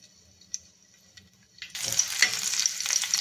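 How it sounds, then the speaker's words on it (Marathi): A green chilli drops into oil on a griddle with a few soft taps, then bursts into a loud, crackling sizzle that keeps hissing and spitting close by. "ज्या तव्यामध्ये आपण थालीपीठ केले त्याच्यातच आपण तेल टाकून एक मिरची टाकून घ्यायची."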